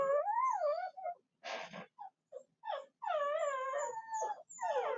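Puppies whine and yelp in high, wavering cries, several voices overlapping with short barks and breathy snorts between them, close and fairly loud.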